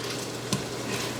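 Food sautés in an Instant Pot with a steady, close sizzle and a brief stirring scrape partway through, with no talking.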